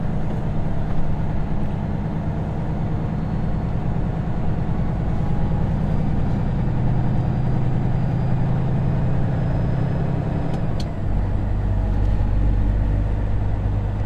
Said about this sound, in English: we are rolling on out of the truck stop here.